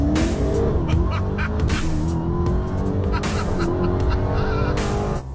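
Dodge Demon launching hard off a trans brake, a loud roaring engine with rising revs and rapid gear changes, tire squeal mixed in, close and continuous.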